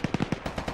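Rapid bursts of coaxial machine gun fire in a video game, about seven quick close shots in an uneven rhythm, the later ones softer.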